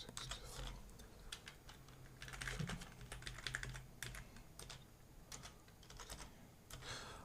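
Rapid bursts of typing on a computer keyboard while entering digits of pi, with clusters of key clicks coming in uneven runs over a low steady hum, close and fairly quiet, no voices.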